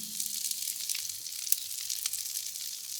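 Asparagus sizzles on a Blackstone griddle, a soft steady hiss of frying with faint crackles, heard alone at low volume.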